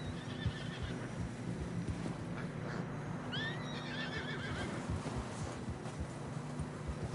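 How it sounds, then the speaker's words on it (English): A horse in deep snow in Red Dead Redemption 2 lets out a sharp, close whinny midway, over a background of muffled hoof clops and steady ambient noise. "Horses are struggling."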